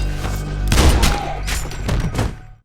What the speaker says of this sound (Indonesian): Kevin menyerang ayahnya dengan brutal meskipun Kevin juga terkena tembakan.